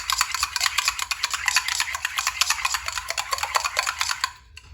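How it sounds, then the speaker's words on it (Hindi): Half a cup of yogurt whisked briskly in a bowl, a fast, steady scraping and tapping rhythm, close and fairly loud, running for several seconds before stopping abruptly. "इसको अच्छी तरह आपने फेंटना है"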